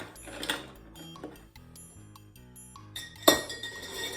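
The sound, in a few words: stirring an El Presidente rum cocktail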